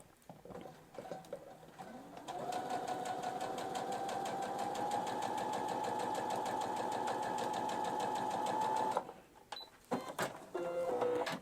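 A sewing machine stitching fabric with a one-centimetre seam allowance, a fast steady mechanical rattle that runs close for about seven seconds after a brief start, then stops with a few clicks and handling sounds.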